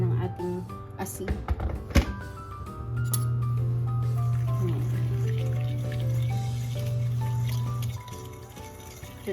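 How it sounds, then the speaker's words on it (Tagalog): Hot water is poured over coarse salt to dissolve it, a steady liquid pour running for several seconds after a few clinks and thunks of utensils against a container. "lagyan ko siya ng mainit na tubig para madali na siyang matunaw kasi medyo malalaki yung hibla ng ating asin"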